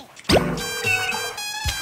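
A phone's default ringtone with nature bird and water sounds plays: tonal chirping notes and harmonic tones over soft liquid drips, heard alone for under two seconds.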